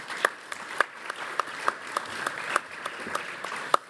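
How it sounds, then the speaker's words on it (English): Sparse applause from a modest audience at an inter-parliamentary conference in Bruges, individual claps standing out in an uneven rhythm, fairly close and moderately loud. "I will recommend to give them a warm applause"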